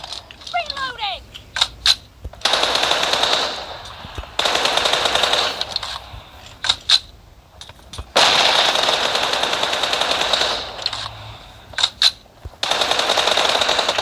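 Automatic M4 rifle fire in a video game, several loud sustained bursts broken by short gaps and single sharp shots, with voices talking in between.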